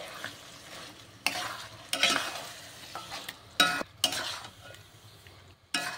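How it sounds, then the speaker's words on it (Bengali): Masala chicken with chopped capsicum sizzles in a pan while a spoon stirs it in irregular scraping bursts, close and fairly soft, with a steady frying hiss underneath. "আর সঙ্গে দিয়ে দিচ্ছি ক্যাপসিকাম কুচি, দিয়ে ভালো করে এরপর কষাবো"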